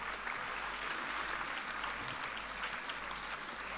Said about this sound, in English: Can we have a huge round of applause for all our achievers?